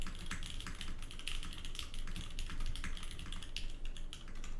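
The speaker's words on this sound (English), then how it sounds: "So you really get to hear the cherry switch." Steady typing on an Ecliptica custom mechanical keyboard fitted with Cherry switches, dense overlapping keystrokes clacking close and even throughout with no voices.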